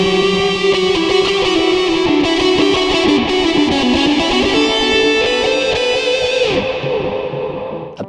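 Harley Benton JAMster guitar played through its built-in level 4 distortion and reverb tone, a loud, continuous sustained distorted chord wash with slight delay, holding steadily for about eight seconds before fading at the end.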